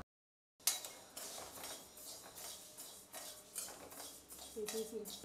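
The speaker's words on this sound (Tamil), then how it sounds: "நான் ஒரு டம்ளர் சிறுபருப்பை போட்டு நல்லா வறுத்துக்கிறேன்." Close by, a tumbler of moong dal dry-roasts in a pan while being stirred. After a brief silence come rough scraping and rattling strokes of utensil on metal, repeating in loose, steady sweeps.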